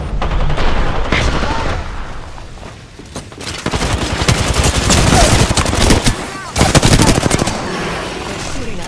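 Enemies fire at the player in a video game, with loud, rapid bursts of automatic gunfire that run almost continuously and build into heavy volleys.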